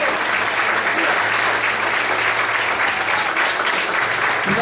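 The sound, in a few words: church congregation applauding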